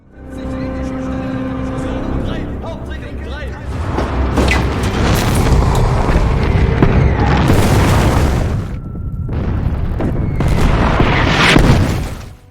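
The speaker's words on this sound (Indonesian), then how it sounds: "Jerman menembakkan artilerinya ke pasukan Uni Soviet yang bertahan di sana" German artillery shelling Soviet trench positions in a war film, heard as loud, rolling booms and blasts layered over a continuous rumbling battle din.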